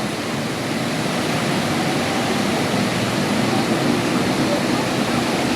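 Steady, loud rush of an indoor waterfall pouring from a wall at Siam Paragon station, a continuous broadband roar with no breaks, heard close up.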